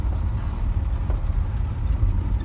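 A VAZ 2101 car on the move, a loud, steady low engine rumble and road noise heard from inside the cabin, continuous throughout with no voices.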